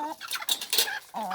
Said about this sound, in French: une de mes poules Brahma que je pense me séparer